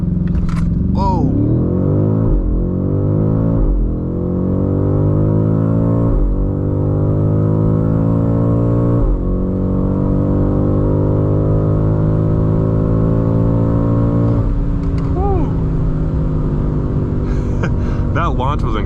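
A 2025 BMW M8 Competition launching hard under launch control, its engine roaring loud and close as the pitch climbs repeatedly through several quick upshifts, heard from inside the cabin.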